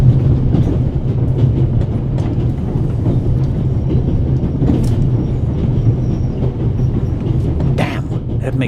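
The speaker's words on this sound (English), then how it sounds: "How can I stop the train?" A train runs along rails in The Raven Remastered video game, with a loud, continuous low rumble and rhythmic wheel clatter rolling steadily throughout, plus a few sharper clanks and squeaks near the end.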